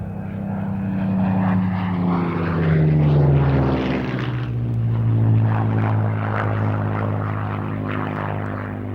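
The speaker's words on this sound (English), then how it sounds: "Several Spitfires still fly, and this one is operated by the Historic Aircraft Collection at Duxford." A Supermarine Spitfire propeller fighter flown by the Historic Aircraft Collection passes at an air show, its engine a loud steady drone that rises and falls in pitch as it flies by, with no talk.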